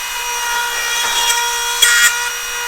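A Dremel rotary tool mounted in a Dremel workstation makes a 90-degree plunge cut against a depth stop. A steady, close, high-pitched whine is heard, with a brief louder grinding burst near the end.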